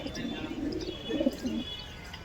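Racing pigeons in a club loft give several soft, low cooing calls in close succession, faint and near, with a little background noise.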